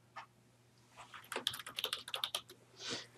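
Computer keyboard keys typed in a quick burst of crisp clicks while logging in to the RefWorks website, close and fairly quiet, with a few isolated taps before and a soft rustle after.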